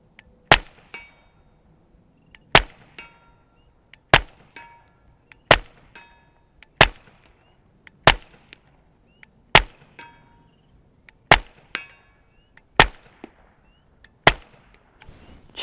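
Eleven evenly spaced sharp pings of .22 LR rounds striking a steel target at distance, each crack with a ringing metallic clang decaying quickly, fired from a Taurus TX22 pistol about every one and a half seconds, no talking.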